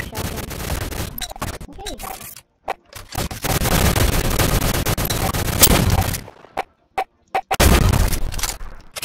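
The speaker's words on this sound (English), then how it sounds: "Let me try the shotgun." Shotgun blasts and other gunfire in the online egg shooter Shell Shockers, with long stretches of noisy shooting broken by short silent gaps and a few isolated sharp shots; a voice speaks briefly.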